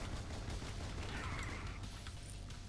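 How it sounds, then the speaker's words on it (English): Fire bursting from pipes in the video game Rogue Stormers, a dense, steady roaring crackle like continuous gunfire, loud and unbroken with no talk. "Who has pipes which randomly shoot fire out onto your world?"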